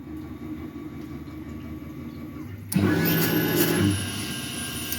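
An MR-1 mill drives a 6 flute end mill into a steel part: a steady motor hum, then the cut bites in with a harsh, louder whine and high ringing tone for about a second before easing back.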